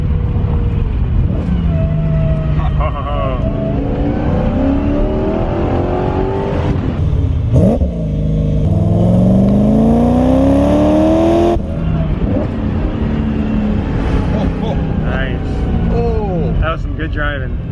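A V8-swapped Porsche 944 Turbo revs loudly on downshifts, the engine note sweeping up in sharp blips over steady driving rumble, close and prominent with some supercharger-like whine.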